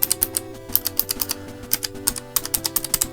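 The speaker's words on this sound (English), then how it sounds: "It's got really clicky keys." A DIY mechanical keyboard with its keycaps removed clacks under fast, uneven typing, with crisp, loud clicky keystrokes close up and no voices.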